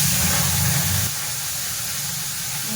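Prawns fry in hot oil with a loud, steady hiss and sizzle that drops noticeably in level after about a second and then continues more softly.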